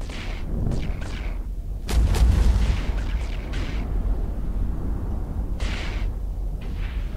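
A medium-range ship weapon fires during an Eve Online level 1 combat mission: a heavy boom, then scattered muffled impacts and bursts over a low rumbling drone.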